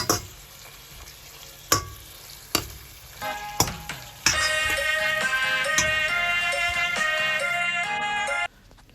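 A few sharp clanks, then duck skin starts frying loudly in oil over medium heat, a dense, bubbling sizzle that holds steady for several seconds before cutting off.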